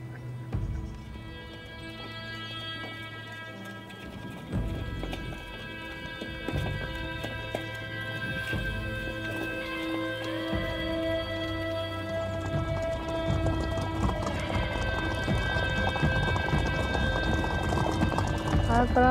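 Rhythmic clip-clop of Icelandic horse hooves on a hard road in Iceland, steady and fairly close, with a droning tonal background throughout.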